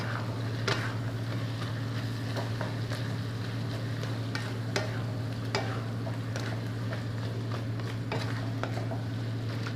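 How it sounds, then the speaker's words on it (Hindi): Beef keema stirred with spices in a karahi: a steady low sizzle under repeated spoon scrapes and metallic clinks against the pan, close and moderately loud. "अब इसको मिक्स कर लेते हैं।"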